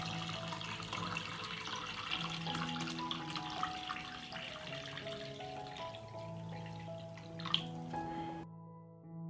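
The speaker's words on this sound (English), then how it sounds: "I pour water into the pot up to the height of the pot." Water is poured into a cooking pot lined with a cloth and holding glass jars, a soft, steady splashing and trickle whose pitch shifts as the pot fills, then stops.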